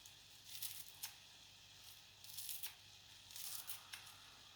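Scissors snip a handful of fresh herbs in a few short bursts of crisp, close cutting with quiet gaps between them.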